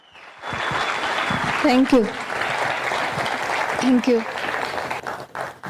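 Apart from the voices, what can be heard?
audience applause welcoming a speaker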